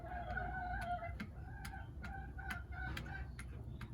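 Several hens cluck in short, repeated bursts over a steady low rumble, close by and fairly loud, with no talking.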